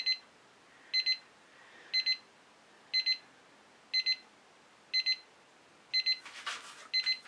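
A timer alarm in an acrylic fluid-art studio beeps in quick double pulses about once per second, clear and close. A short rustling noise comes in near the end.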